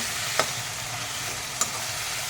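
Vegetables sautéing for pulao in a pan, a steady faint sizzle with two brief clinks of a spoon against the pan.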